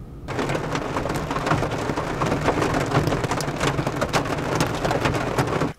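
Heavy rain in Massachusetts pours down steadily and loudly, a dense wash of drops with a deep rumble beneath it, and no one speaks.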